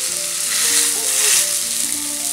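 A stuffed chapati with potato filling frying on a hot tawa with ghee gives a loud, even sizzle that runs unbroken and close, with a few faint tonal whines in the background and nobody speaking.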